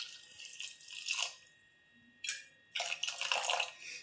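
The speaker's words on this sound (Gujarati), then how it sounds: "એમાં આપણે 1 વાટકી પાણી નાખશું." Water poured from a small bowl onto tamarind and jaggery for a chutney, giving two or three short splashing bursts with quiet pauses between, close and alone.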